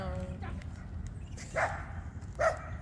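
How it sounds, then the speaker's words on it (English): A dog barks twice, short and moderately close, over a faint background hum with a soft murmur of voices. "there's another dog."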